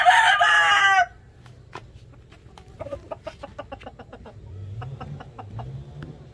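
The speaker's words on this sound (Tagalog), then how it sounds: "Ito mga Golden Boy na mga stag yan." Golden Boy stag roosters, about five to six months old and kept penned, give one loud close crow at the start, followed by scattered clucks and shorter calls from several birds over low background noise.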